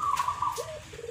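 A perkutut (zebra dove) gives a short, soft cooing call in a few quick, fluttery notes, faint against a low background hum.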